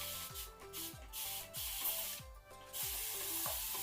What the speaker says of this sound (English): I'm gonna spray a little bit more water in my roots